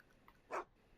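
Einstein the dog in a Back to the Future video game gives one short, close whine that rises and falls, alone against a quiet background.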